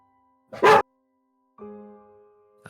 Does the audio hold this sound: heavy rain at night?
no